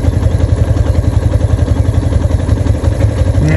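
Motorcycle engine running steadily while riding on a smooth road near a cement factory, a loud, continuous low throbbing with rhythmic pulsing and no pause throughout.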